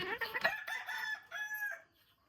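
A hen with chicks clucks close by in a few short bursts with some higher cheeping, then the sound fades to near quiet at the end.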